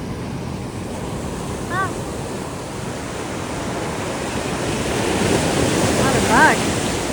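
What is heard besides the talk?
ocean waves crashing on a beach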